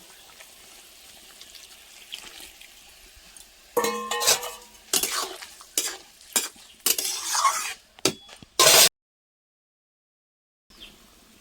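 Soaked, mixed tamarind pulp poured into a cooking pan along with sugar, giving a run of loud close sizzling, stirring and scraping bursts that stop abruptly into silence, with a brief faint sound at the end.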